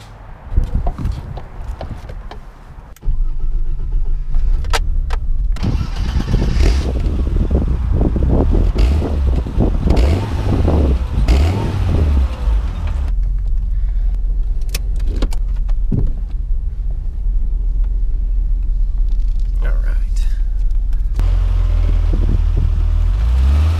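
BMW E30 sedan with new suspension starting up and pulling away, a low steady engine drone that builds and holds for the rest of the drive, with some clunks and rattles early on and no talk.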